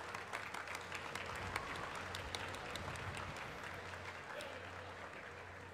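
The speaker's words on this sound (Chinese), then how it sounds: "让我们掌声欢迎游院长。" A large audience at a National Day celebration gives sustained, steady applause welcoming the Legislative Yuan President, heard as a distant, even wash of clapping that lasts the whole stretch.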